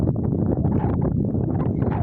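Strong wind blows in open country, buffeting the microphone as a continuous low rumble with gusty surges and no clear voices.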